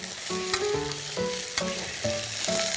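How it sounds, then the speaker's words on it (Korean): Lotus root stir-frying in oil in a pan, with a steady close sizzle and bursts of clatter and scraping as it is stirred and tossed. "이 기름을 넣고 약간 볶는 느낌이잖아요"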